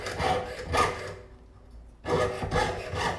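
Hand file and saw worked across metal, close raspy back-and-forth strokes in two bursts separated by a brief quiet gap, steady and fairly loud with no talk.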